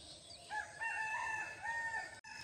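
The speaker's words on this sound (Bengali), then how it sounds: "মুরগিগুলো আবার সকাল সকালে ছেড়ে দিছে" In a rural village yard in the morning, where chickens have been let out, a rooster crows in a clear, drawn-out call at moderate distance, with the hens otherwise quiet.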